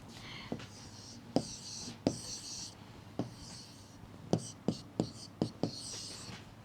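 A chemistry answer is written out by hand, with soft scratchy strokes and sharp taps at irregular intervals, faint and close, while a voice speaks quietly underneath.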